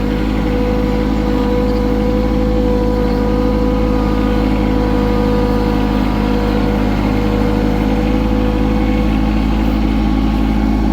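Tractor engine running at a steady idle, a loud continuous low rumble with even throb and no talk.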